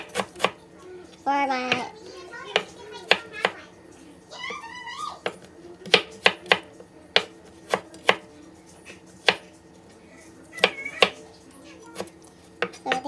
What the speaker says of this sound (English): So now I'm going slicing the ginger